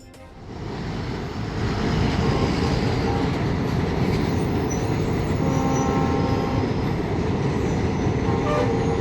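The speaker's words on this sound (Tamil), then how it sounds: "கடைசி கட்டமாக புதிய ரயில் பாலத்தில் பயணிகள் ரயில் சோதனை ஓட்டம்" A passenger train makes a test run on the new railway bridge at Rameswaram, producing a steady, loud rumble with a hiss of wheels on the rails that builds and holds throughout.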